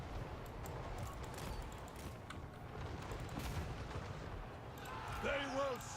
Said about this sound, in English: Let's go for the artillery.